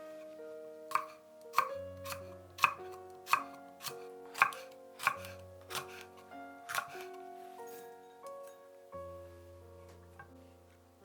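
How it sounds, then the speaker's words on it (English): Sweet or hot chillies are minced with a knife on a board for Chinese stir-fried eggplants, with a dozen sharp, evenly spaced chops sounding close over soft background music. "Mince 2 sweet or hot chillies."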